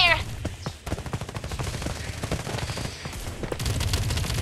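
Sustained automatic gunfire in the battle-royale shooter Farlight 84, dense rapid bursts of submachine gun and rifle shots rattling loudly and continuously, with a brief chime-like effect at the start.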